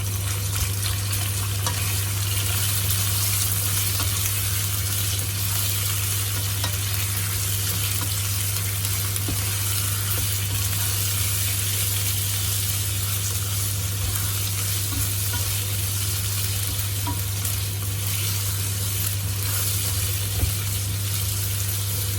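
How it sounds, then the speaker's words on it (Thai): Pork belly fries with garlic and shallots in a pan for Thai stir-fried wide rice noodles, giving a steady, close, dense sizzle that runs unbroken throughout over a low constant hum, with no voices. "ใส่สองอย่างเลยจ้ะหอมกระเทียมร่วมกันให้หอมเลยจ้ะ ใส่หมูสามชั้นลงไป"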